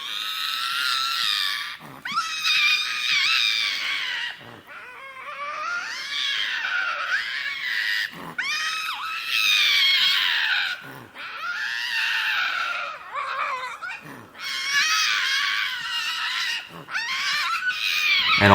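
Male wild American cats scream back and forth in long, harsh, wavering yowls, repeated bursts broken by brief pauses, loud and close, with no talking.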